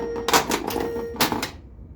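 Lower flipper on a Harlem Globetrotters pinball machine being repaired fires twice, each a sharp mechanical clack and rattle about a second apart, close and loud under a faint electrical hum.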